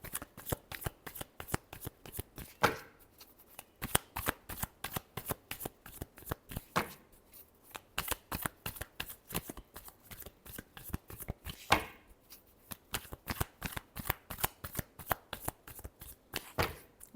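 Tarot cards shuffled by hand in rapid riffling bursts, a close, crisp run of quick flutters broken by short pauses, continuing steadily throughout.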